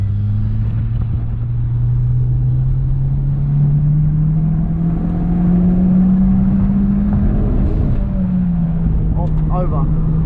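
Mitsubishi Lancer Evolution X engine on a track lap, a loud sustained drone whose pitch climbs steadily as it revs, with a slight dip near the end; people talk over it inside the car.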